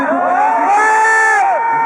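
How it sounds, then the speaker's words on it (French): A crowd shouts and cheers loudly at the Toulouse Game Show, a gaming convention, with a sustained roar and a prominent voice rising above the noise throughout. "Vous hurlez, hein, le Toulouse Game Show."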